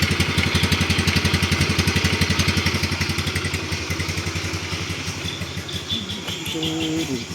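A used Orion motorcycle engine idles nearby with a steady, smooth, rapid putter, loud and even, easing slightly toward the end.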